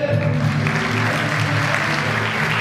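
Audience applause at a Turkish folk music concert opening, steady dense clapping filling the whole stretch at moderate loudness, with no voices over it.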